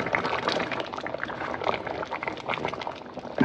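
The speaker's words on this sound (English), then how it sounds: "We're going to add a pinch of salt. And give that a stir." Nsala white soup is stirred in a pot right after a pinch of salt goes in. Close, continuous wet sloshing and churning of liquid, with no talking.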